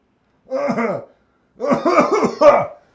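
A short cough, a pause, then a longer rattling fit of several coughs close to the mic.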